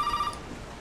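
A telephone rings in the video game Resident Evil 7: Biohazard, a short, faint electronic ring heard alone and cut off after a fraction of a second.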